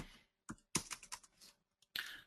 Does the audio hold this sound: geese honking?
no